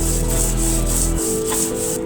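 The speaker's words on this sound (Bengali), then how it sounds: "বাদামগুলো আস্তে আস্তে খুব মিহি করে বেটে নিব আমি" Peanuts and chilies are ground by hand into a fine paste for Bengali vorta, giving close, continuous rubbing and scraping strokes in a steady rhythm, alone with no talk.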